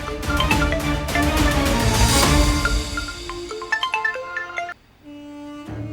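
An electronic phone ringtone plays a bright, repeating melodic tune, fairly close, stopping briefly before resuming.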